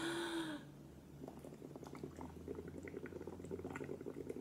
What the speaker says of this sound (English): You want to make some bubbles? Okay, let's blow.